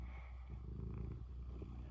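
A cat named Miss Wednesday purrs while cuddling, a faint, low, steady rumble with soft rhythmic pulses, close by and alone.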